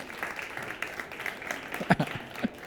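Audience clapping at a tech awards ceremony in Montreal, a modest, somewhat distant patter of hands with a few sharper, closer claps near the end and faint voices underneath.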